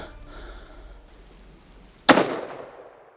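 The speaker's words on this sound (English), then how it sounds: "That looked like a good shot" A single sharp rifle shot fired at game during a hunt, a loud close crack followed by a rolling echo that fades over about a second, after quiet outdoor ambience.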